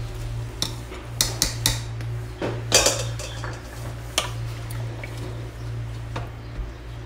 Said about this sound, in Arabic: خلاص كده زبطت الملح وحطيت الرز